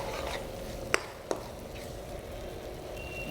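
Cooked mutton pieces being stirred into frying masala in a pan, with two sharp spoon clacks against the metal over a steady low sizzle.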